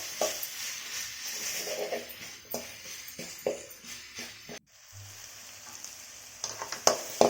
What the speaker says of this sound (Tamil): இந்த ஸ்டேஜில் நான் தக்காளி சேர்த்துக்கிறேன். அதையும் நல்லா வதக்கி விட்டுக்கிறேன்.